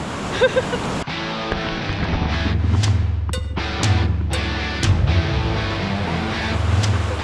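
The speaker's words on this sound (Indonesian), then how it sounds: "Ini ombaknya semakin lama tuh semakin besar" Large ocean waves roll and crash onto a sandy beach, a loud near rumbling wash that swells and breaks repeatedly, with gusty wind noise across the microphone.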